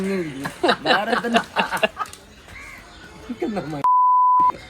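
Someone talks and chuckles, then a loud steady electronic beep cuts in for under a second before speech resumes.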